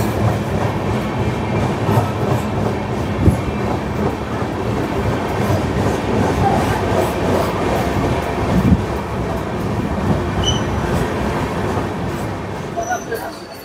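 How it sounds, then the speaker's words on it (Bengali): The Dhauli Express, Shalimar to Puri train 12821, rolls out of Belda station with a steady rumble and rhythmic clickety-clack of wheels on rail joints, heard from on board at loud, close range. "এগারোটা 54 ট্রেন বেলদা স্টেশন ছেড়ে দিল"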